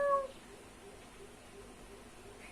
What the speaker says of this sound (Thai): ที่แท้ก็เป็นแค่แมวเหมียวนี่เองเมียวเมียว